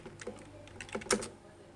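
Fingers type a password on a computer keyboard, a handful of quiet, close key clicks spread over a second or two, with no voices.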